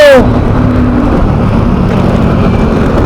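Vehicles moving along EDSA in Mandaluyong, a loud, steady rumbling traffic roar with engine drone close by, opening with a brief whining sweep before the continuous road noise.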